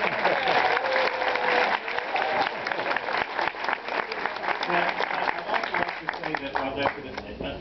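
Audience applause fills a post-screening discussion of a Sholem Aleichem film honoring writer Bel Kaufman at age 100, a dense, steady wash of many hands clapping throughout with light crowd murmur mixed in.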